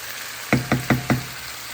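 A lid set onto a cooking pot gives four quick, evenly spaced knocks, close and crisp, over a faint steady background hum.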